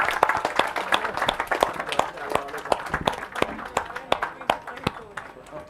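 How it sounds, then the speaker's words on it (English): An indoor audience at a moot GST tribunal event claps in a loose, irregular patter of individual hand claps, moderately loud and sustained, fading slightly toward the end. "Let's continue to clap for them."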